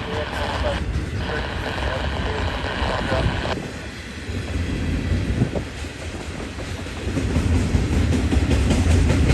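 A BNSF eastbound freight train rumbles past at Keenbrook, California, with a continuous heavy roar and rattling, steady and fairly loud throughout, with wind buffeting the microphone.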